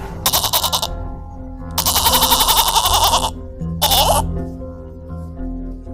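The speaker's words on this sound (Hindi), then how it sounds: "बकरी की आवाज कैसी?" A goat bleats in several loud, wavering calls close by, three drawn-out cries separated by brief gaps over a low steady background.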